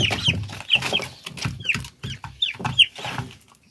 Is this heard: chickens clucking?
yes